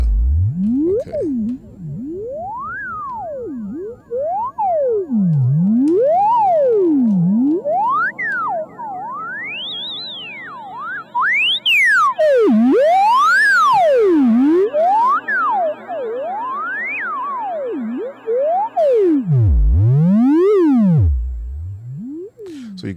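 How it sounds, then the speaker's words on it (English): A modular synth evolution filter in self-oscillation mode produces a pure sine-like tone that sweeps up and down in repeated glides, growing buzzier with extra harmonics midway, loud and unaccompanied by talking. "so that's self-oscillation mode"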